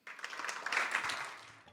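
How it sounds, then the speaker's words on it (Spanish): An audience claps to welcome performers at an honorary doctorate ceremony, a steady wash of applause that swells and then slowly fades. "Los recibimos con un fuerte aplauso"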